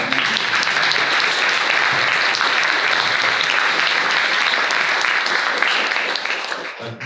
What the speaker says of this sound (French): Est-ce qu'on applaudit Hélène Huppert?